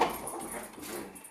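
Several dogs bark and whimper in the background of a home, a whining yelp up front at the start, then softer, muffled yips and whines running steadily underneath.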